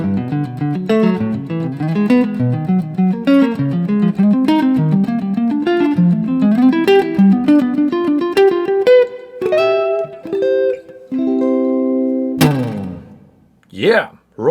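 An instrument plays a practice exercise following the circle of fifths, a fast run of rising and falling notes and chords that grows sparser, then ends with a few strummed or struck chords and brief knocks.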